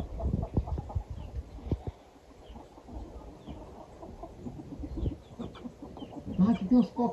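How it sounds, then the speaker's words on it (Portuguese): A hen near a chick on a rural farm clucks softly and intermittently, with a burst of louder clucks near the end, while people talk nearby. "aquela outra galinha queria pegar o pinto"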